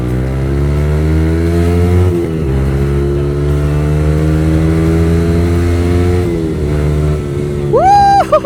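A Yamaha MT15 motorcycle fitted with a replica Pro Pipe exhaust revs hard and close, holding a loud, buzzy high-RPM drone with short dips as the throttle is blipped, then a rising whine near the end.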